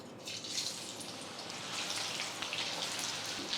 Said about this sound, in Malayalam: ഇപ്പോൾ നല്ലതായിട്ട് ചൂടായി ഒന്ന് തിളയ്ക്കാൻ തുടങ്ങിയിട്ടുണ്ട്. ഇനി മാങ്ങ ഇട്ട് കൊടുക്കാം.